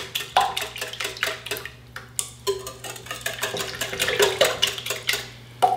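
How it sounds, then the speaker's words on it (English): An egg being stirred into a rum and raisin bread pudding mixture with a utensil in a bowl, giving a steady run of close, uneven clinks and scrapes against the bowl without any talking. "You want to make sure that the egg is properly incorporated in this mixture."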